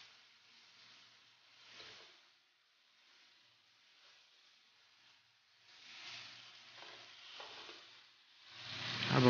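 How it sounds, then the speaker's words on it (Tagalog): Marinated meat frying in a pan, a soft, quiet sizzle that swells and fades, growing louder and brighter toward the end. "Habang piniprito yan,"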